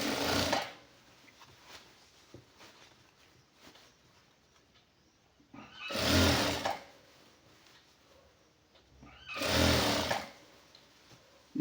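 Sewing machine stitching a khadi silk shirt: three loud whirring bursts of stitching separated by quieter pauses with light handling sounds, with no talk.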